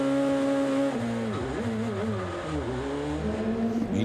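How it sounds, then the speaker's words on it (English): DTM race car engine at the Nürburgring race start, a loud sustained note that wavers and dips as the car bogs down under heavy throttle, with the pitch climbing again toward the end. "You can hear the car really bogged down as tries to put as much power through as possible."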